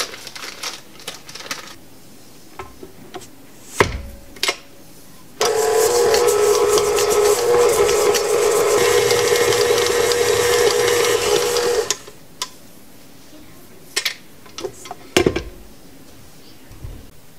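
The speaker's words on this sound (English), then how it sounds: "we're going to take 1 cup of sugar and 1 soft stick of butter. And we're going to mix that together" An electric mixer creams a cup of sugar with a soft stick of butter for cookie dough, a loud steady motor whir lasting about six seconds, framed by scattered clinks and bumps of bowls and utensils before and after.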